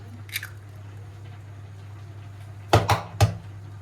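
Three eggs cracked one after another near the end, each a sharp, close crack with a brief squishy follow-through, over a steady low hum and otherwise quiet kitchen.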